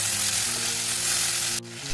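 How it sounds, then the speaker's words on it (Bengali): Fish curry gravy, a mustard-style macher jhal with little water, bubbles hard in a pan as a loud, steady, close hiss and sizzle that dips briefly near the end. "দেখো ঝোলটা ফুটে উঠেছে"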